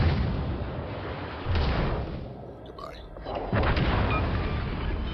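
Naval gunfire from HMS Plymouth in the World of Warships Legends game, dense rumbling booms and continuous battle roar close up, easing briefly before surging again, with a voice partly heard over the noise.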